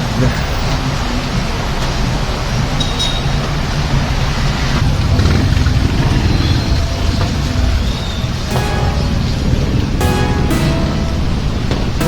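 Rain falling outside near a barbershop, a loud continuous hiss filling the whole stretch with some brief crackles, voices faintly in the mix.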